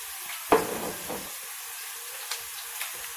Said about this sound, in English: It's going to cool that grease down, and then it's going to let this simmer and fry.